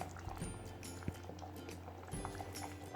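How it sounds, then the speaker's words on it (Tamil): A thickened Manipuri-style fish curry bubbles in a pot on a gas stove, soft steady simmering with a few small pops, faint and close. "குழம்பு நல்லா கொதிச்சு ஓரளவுக்கு திக்காக இருக்குது"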